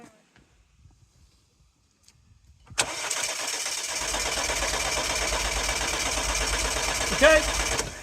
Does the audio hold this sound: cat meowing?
no